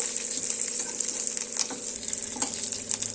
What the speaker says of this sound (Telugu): ఇలా పచ్చిమిర్చి లైట్ బ్రౌన్ కలర్లోకి వచ్చేంత వరకు వేయించుకొని